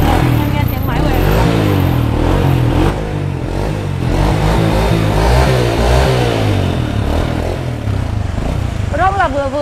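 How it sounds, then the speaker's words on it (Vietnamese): The engine of a used motorcycle at a Vietnamese used-bike seller runs and revs with a mid-pitched drone. Someone talks loudly over the engine almost throughout. "Anh em nghe tiếng máy của em."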